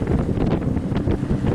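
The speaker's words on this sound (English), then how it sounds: "The winds are gusting 15 to 25," Loud, blustery wind at sea off Guadeloupe, gusting 15 to 25 knots, buffeting the microphone with a dense low rumble and occasional rushing gusts, continuous and close.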